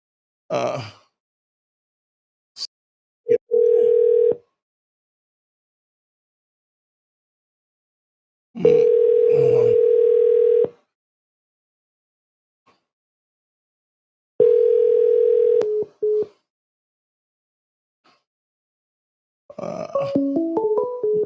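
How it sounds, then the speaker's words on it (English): A phone rings during a live call-in show, loud electronic ring tones repeating in separate bursts with silent gaps between them, ending in a short stepped melody. "Phone is ringing."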